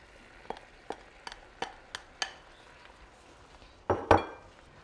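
Eggs cooking in a pan for moo shu pork, a low sizzle under a run of six light utensil taps against the pan, then a louder burst of stirring and scraping near the end, close up, with no talk.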